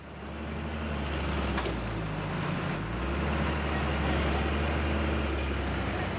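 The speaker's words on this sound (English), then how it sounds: "To have a chance to pull it out of the mud, another truck attaches itself to Carlos's truck." Heavy truck engines labouring as one truck hitched to another tries to pull it out of deep mud, a loud steady low rumble with a brief rising strain partway through.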